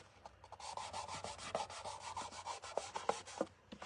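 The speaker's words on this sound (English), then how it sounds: "When I'm going up, just take your fingers and just rub it up." Fingers rubbing back and forth over a smashed aluminum can, pressing into its grooves, giving a close, rhythmic dry scraping with regular strokes about every quarter second, heard alone.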